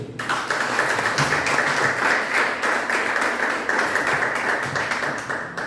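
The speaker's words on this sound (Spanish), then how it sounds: "yo pido un fuerte aplauso para Percy Vilches Vela" Loud, steady applause from an audience at a book presentation, honoring writer Percy Vilches Vela, with many hands clapping continuously and close throughout, no voices over it.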